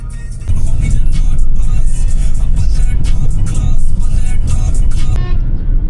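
A car drives on the road to Greater Noida, with loud, steady engine and road noise close up from inside the vehicle throughout, plus a few small knocks and clicks.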